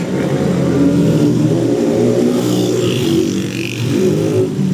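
A Fiat Tempra 1.6 MPi car engine with a rough, troubled running condition, idling steadily and loudly up close for the whole stretch with a constant low mechanical drone and no talking.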